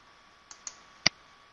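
Mouse clicks on a computer, heard as three quick, close, isolated clicks, the last one louder, over a quiet background hum.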